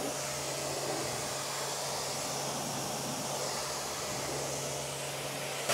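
A Kranzle pressure washer sprays a steady, hissing jet of water as it rinses a car wheel. The tone is even and continuous and holds at a moderate level with no talk.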